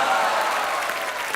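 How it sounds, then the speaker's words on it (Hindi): A studio audience on The Kapil Sharma Show, a TV comedy show, breaks into applause, with steady dense clapping filling the brief moment. "थोको ताली शो पे विद्यावती है।"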